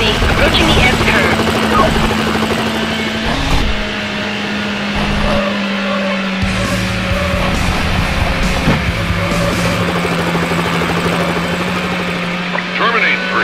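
A police helicopter in the video game NFS Hot Pursuit 2 drones with a steady rotor thrum alongside racing car engine noise while a radio voice talks over it throughout.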